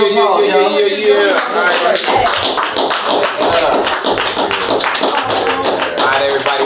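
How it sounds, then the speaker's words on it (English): Clapping from a small audience at a writing session, with quick, uneven claps close by that hold steady throughout, mixed with voices and cheering. "round of applause, y'all"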